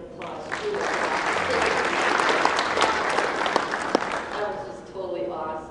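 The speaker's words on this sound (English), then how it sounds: "Give him a good round of applause." Audience applause at a stage hypnosis show, a warm burst of clapping swelling for several seconds, with a few shouts and voices inside it and speech resuming as it dies down.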